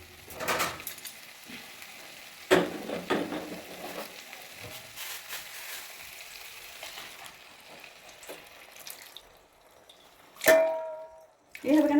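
Water poured into a hot pan holding a little leftover spice over a gas flame in a home kitchen, bringing soft sizzling and frying hiss with a few sharp clatters and splashes.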